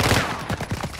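A short burst of heavy video game gunfire, several quick, booming shots in fast succession, loud and close, with little else around it.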